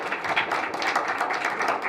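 An audience applauding school students at an Acadian Remembrance Day gathering, a steady patter of many hands clapping at moderate distance.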